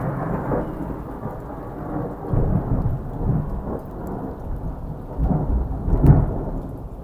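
Thunder from a big lightning strike rumbles and rolls in low, swelling waves over steady rain, with a sharper crack near the end.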